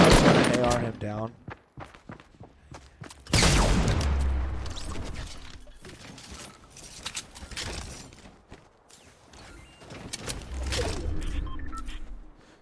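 Assault rifle fire in Fortnite: several sharp bursts of shots and impacts, loud and close, clustered around the middle and end, with a player talking over the gameplay.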